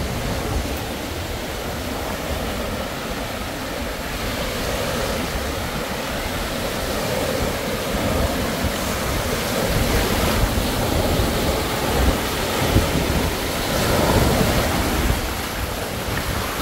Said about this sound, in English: The waves today though, it's well, you can have a look for yourself.